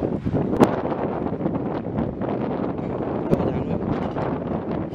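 Wind gusts buffet the microphone at an outdoor skate park in a continuous rough rumble, with a couple of faint sharp knocks and no speech.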